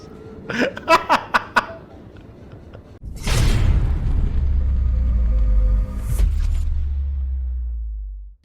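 A grenade blows up in the shooter game Atomic Heart, opening with a loud, sudden boom that rolls into a long, heavy low rumble. Several short bursts of laughter or chuckling come just before it.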